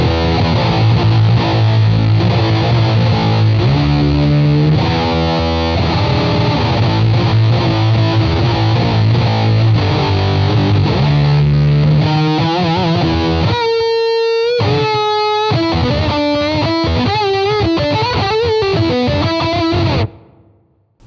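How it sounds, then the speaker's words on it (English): An electric guitar plays through a Boss OD-20 pedal set to its Metal Zone model, giving a thick, bottom-heavy distortion. Loud chugging low riffs give way to ringing sustained chords and higher notes, then the sound cuts off at the end. "We'll choose the metal zone and I'm just gonna dial this in for like a disgusting bottom heavy distortion."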